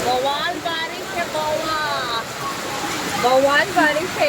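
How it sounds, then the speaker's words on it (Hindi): Steady heavy rain hisses throughout outside a moving train, with a voice speaking over it. "बारिश हो रही है, मुझे तो सुनाई दे रहा है।"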